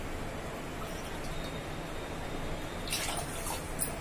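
Water is poured into a pot holding sugar for rasgulla syrup, a steady close splashing rush that continues evenly throughout, with a few brighter splashes near the end and no talking.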